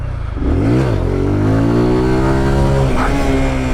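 A motorcycle engine revs hard uphill during wheelie practice, rising in pitch, dipping briefly, then holding a loud sustained drone close by.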